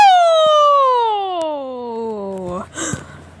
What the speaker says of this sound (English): we heard sirens